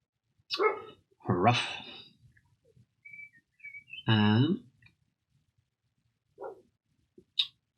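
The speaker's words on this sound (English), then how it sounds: "Got my dog going mental in the background." A dog barks in short, loud, separate bursts from a nearby room, a few yelps spaced across several seconds with quiet gaps between them.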